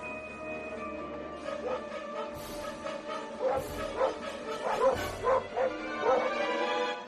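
Several dogs bark and yip in quick bursts, some whimpering between barks, fairly close, growing more excited toward the end.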